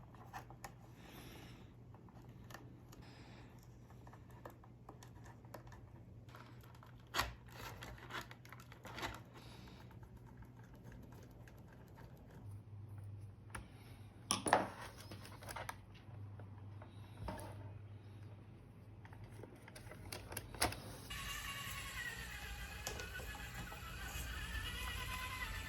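An SCX24 Land Rover Defender D90 RC crawler on a RampCrab LCG chassis drives across a desktop, a faint whirring motor hum with small clicks and bumps, rising in pitch and intensity near the end.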